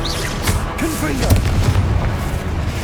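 Fiery blasts from the Confringo blasting curse in Hogwarts Legacy, a busy run of booming bursts and crackling impacts amid spell effects and game sounds, with voices calling out under the action.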